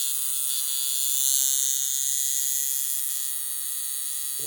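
An old-fashioned coil tattoo machine runs continuously and close by, a steady high buzzing whine with a faint hum beneath it.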